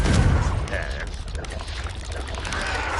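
A Confringo blasting spell explosion in Hogwarts Legacy bursts loud at the start, then a rumbling, crackling tail fades under ambient game noise.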